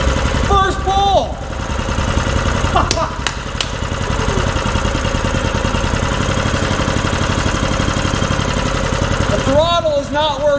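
A small pull-start engine fires up and keeps running at a steady, loud idle-like drone for the whole stretch, with brief voice-like tones near the start and end.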